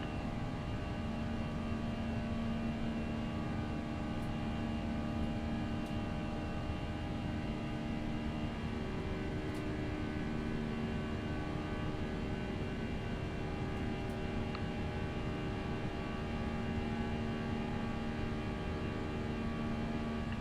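An Airbus A320 in the X-Plane 11 flight simulator sits with its jet engines running, a steady droning whine with a few tonal hums that barely changes and holds at a constant level throughout.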